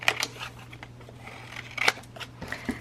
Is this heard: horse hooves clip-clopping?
no